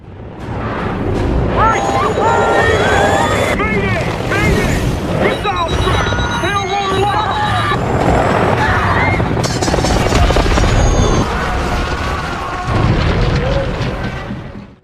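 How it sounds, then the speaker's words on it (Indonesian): A helicopter being shot down and exploding in the action film Wolf Warrior: heavy booms and blasts in a dense, loud battle mix, with shouting voices and effects layered throughout. "helikopter tersebut ditembak jatuh oleh pasukan Big Daddy"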